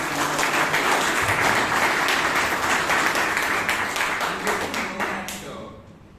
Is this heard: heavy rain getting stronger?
no